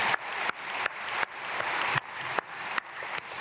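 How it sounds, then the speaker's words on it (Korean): A church congregation at a dawn prayer service claps loudly in blessing, a continuous broadband clatter of many hands with regular brief dips. "우리 크게 박수로 축복하겠습니다"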